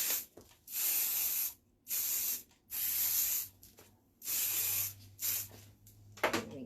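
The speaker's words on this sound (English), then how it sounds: "I'm also going to hairspray the remainder of the back section as well." Hairspray is applied to a styled hairdo in a series of about five long, close hissing bursts separated by short pauses.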